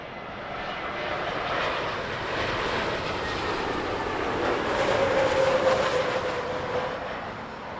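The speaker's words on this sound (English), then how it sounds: "Vueling there, arriving from Barcelona, a relative newcomer to Heathrow" A Vueling airliner arriving at Heathrow from Barcelona passes with a loud, broad jet roar that swells and holds steady, a faint whining tone rising within it partway through.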